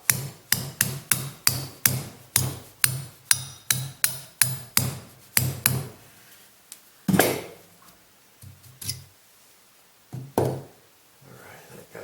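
A steady series of sharp metallic hammer strikes on a part during a Polaris snowmobile repair, about two per second, then a few slower, scattered knocks.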